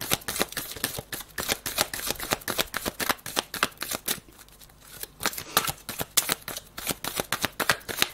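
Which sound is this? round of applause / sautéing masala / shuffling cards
shuffling cards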